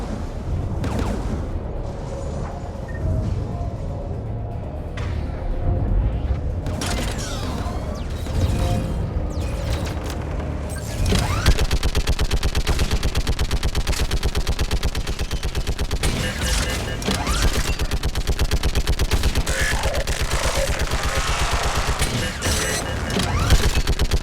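Sustained gunfire in the Mass Effect 3 Legendary Edition battle, dense rapid bursts and heavy impacts that grow louder and more continuous partway through, with no speech over it.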